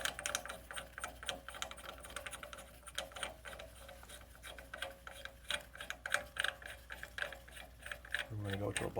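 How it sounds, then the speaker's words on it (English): A nut threaded onto the rear axle shaft of a BMW 335ix E90 during a wheel bearing job, a run of quick metallic clicks and ratcheting ticks under faint speech-like background noise, ending with a louder low knock. "I'm going to thread the proper size nut"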